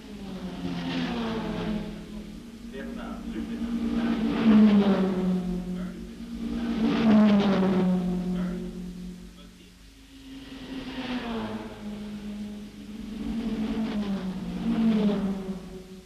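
Ford Mustang race cars at the 1964 Tour Auto in France, engines rising and falling in repeated swells as the cars pass, with a loud, steady drone between passes.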